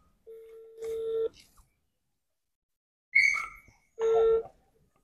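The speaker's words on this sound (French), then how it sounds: "Si tu as renvoyé l'appel, appelle ta meilleure amie. Tu mets sur haut-parleur." Phone ringing on speakerphone during a call: a steady electronic ring tone in separate bursts, each about a second long, with a short pause between the second and third, clear and close in a quiet room.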